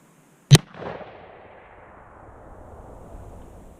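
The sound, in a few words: Remington Model 788 6mm rifle firing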